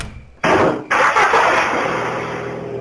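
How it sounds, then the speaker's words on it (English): In a PSX-style horror video game, a car engine cranks and catches abruptly after a moment of quiet, then roars loudly with a brief stutter before settling into a steady, rumbling idle. "Loud car start."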